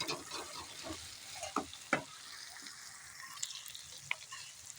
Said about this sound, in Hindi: अब हम इसमें आलू मिक्स कर लेंगे।